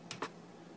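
Two quick keystrokes on a computer keyboard as a web address is entered, crisp clicks close by, followed by quiet room tone.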